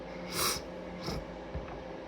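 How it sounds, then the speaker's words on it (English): Two or three short, breathy nasal sniffles come up close and fairly quiet, each a quick hiss of air drawn through the nose, with brief pauses between them. "Excuse the sniffles."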